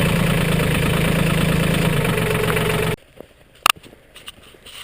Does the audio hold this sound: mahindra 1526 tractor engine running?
yes